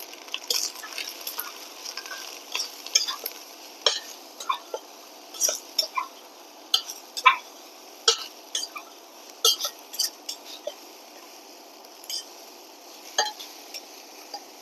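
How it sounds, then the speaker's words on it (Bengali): Broccoli florets fry in a pan with a soft, steady sizzle, punctuated every second or so by crisp clicks and taps of a spoon stirring against the pan, close and without any voices. "ব্রোকলিগুলো আমি 3 মিনিটের মতো এভাবে একটু ভেজে নিয়েছি"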